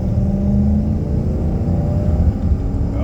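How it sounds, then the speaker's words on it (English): A 2006 Toyota Tundra SR5 pickup accelerating under load, a steady loud engine drone and road rumble heard from inside the cab, with no clear break for the gear shifts. "now I'm gonna go ahead and get on the gas a little bit and just kind of let you see how it shifts as I hit the gas"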